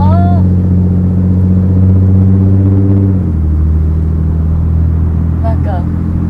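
A Nissan Z32 Fairlady Z with a 3-litre naturally aspirated engine rumbles loudly and deeply while driving, a steady low drone that drops in pitch midway as the car shifts, with voices talking over it.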